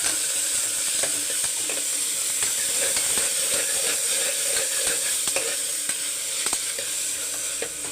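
Ginger garlic paste, curry leaves and small shallots sauté in hot oil in a pan for a Tamil mutton curry, giving a steady bright sizzle with faint scraping stirs throughout and no voices.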